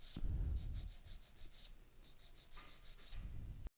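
A nail file rubs rhythmically across a sculpted acrylic nail over a clear tip, shaping it into an almond form: a fast run of close, scratchy back-and-forth strokes, a short pause, then another burst of strokes.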